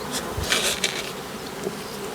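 Bees buzz close by during a spring hive inspection in February, a steady insect drone with a few louder swells as individual bees pass near.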